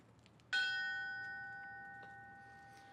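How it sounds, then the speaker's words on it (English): A single clear strike on a memorial bell at a fallen firefighter ceremony, with a sharp metallic onset and a long, steady ringing tone that slowly fades in a quiet room. "Ringing the bell and accepting the flag will be his daughter, Lynn."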